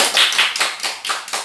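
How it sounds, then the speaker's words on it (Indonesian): Several sharp hand claps ring out close and loud in a classroom setting, about six in quick, slightly uneven rhythm over a second and a half, with nothing else heard. "tepuk tangan buat kalian semua"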